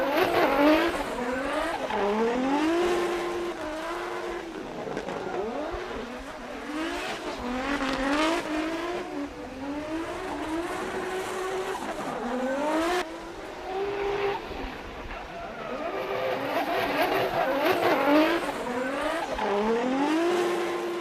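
Drift cars on a Formula Drift Japan qualifying run at Gransnow Okuibuki, Shiga, engines revving and rising and falling in pitch continuously as tires squeal, loud and close throughout.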